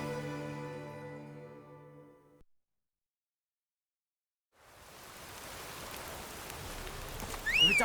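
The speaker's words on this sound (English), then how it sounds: "If it don't stop raining" In The Witcher 3: Wild Hunt, steady rain comes in after a fading musical passage and a few seconds of silence, a broad hissing downpour that swells and stays loud and close through the end.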